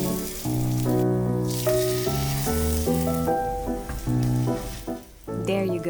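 Zucchini slices dipped in egg batter fry in a pan, giving a soft, continuous sizzle that sits under loud tuneful background music throughout.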